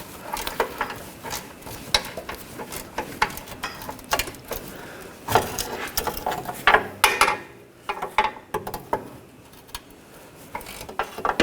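Ratchet turning an 18mm socket on a rear lower control arm bolt of a 2009-2017 Volkswagen Tiguan, giving rapid clicking bursts in irregular spurts with short pauses, close and clear.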